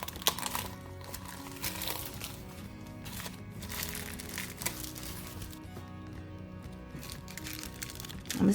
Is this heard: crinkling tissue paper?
yes